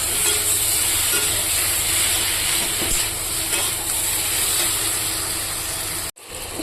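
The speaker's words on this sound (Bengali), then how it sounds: "আলু আর কষিয়ে নিলাম কষানো হয়ে গেছে এবার আমি এখানে পরিমাণ মতো জল দিয়ে দেব" Water poured into a hot pan of sautéed potatoes with chilli paste, giving a steady, loud broadband hiss that holds for about six seconds and then cuts off abruptly.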